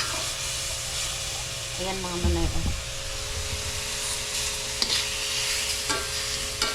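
Meat frying in a wok-style pan with salt added first, stirred and shifted around with a steady sizzle, a brief scraping burst partway through, and someone talking over the cooking.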